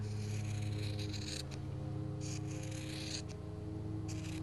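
Scissors snip and rasp through material, a few close cuts over a low steady hum, with no talking.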